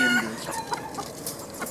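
A rooster from a red mottled breeding flock clucks softly a few times against a faint, noisy farmyard background, with no one talking.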